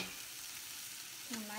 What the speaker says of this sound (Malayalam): നന്നായി മിക്സ് ചെയ്യണം.